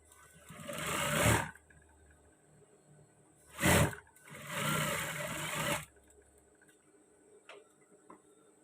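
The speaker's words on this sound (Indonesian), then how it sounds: "Kita jahit kupnatnya." A sewing machine stitches a dart on a pair of trousers in three separate bursts of rapid whirring and clattering, the middle one short and loud, separated by quiet pauses with faint handling clicks.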